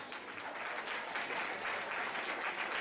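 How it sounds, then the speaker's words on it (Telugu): An audience at an Ugadi celebration claps steadily, a dense, even patter of many hands that carries through the whole stretch at moderate volume with no voices over it. "మీ అందరినీ చప్పట్లతో ఒకసారి ప్రోత్సహించవలసిందిగా కోరుతున్నాను"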